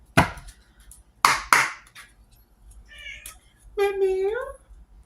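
A cat meows, a drawn-out rising and falling cry near the end, following a few sharp knocks; a voice speaks in between.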